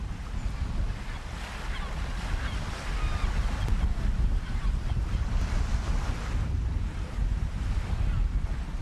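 Sea waves crash and surge against the rocky edge of a gannet-nesting island, a continuous loud roar of surf mixed with steady wind buffeting, with no voices.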